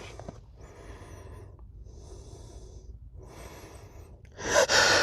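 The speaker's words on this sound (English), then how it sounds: "Achoo!" A person takes several sharp, breathy inhales in a row, then lets out one loud, abrupt sneeze at the very end.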